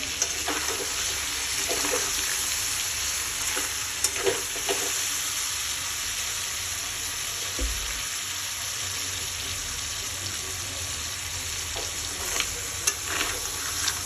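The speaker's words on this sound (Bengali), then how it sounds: "প্রায় আমার কাঁকড়াটা ভাজাও হয়ে গেছে" Crab fries in a pan with a steady close sizzle, punctuated by occasional stirring knocks and scrapes of a utensil, and no talk.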